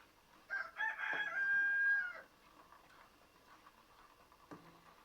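A rooster crows once, loud and close, a drawn-out cock-a-doodle-doo lasting about a second, followed by quieter farmyard background with a faint cluck.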